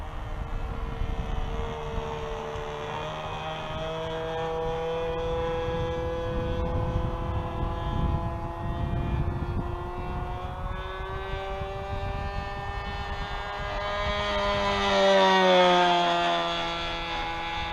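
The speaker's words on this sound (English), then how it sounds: "Engine's running really good." A Sportsman Aviation Spitfire 60 radio-controlled model plane in flight, its engine buzzing steadily and shifting in pitch as it circles, swelling louder near the end as it passes closer overhead.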